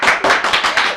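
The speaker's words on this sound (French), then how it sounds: "vous applaudissez un peu trop bien là" Brief burst of audience clapping at a televised fashion competition, close and loud, several quick pulses of hands within a second.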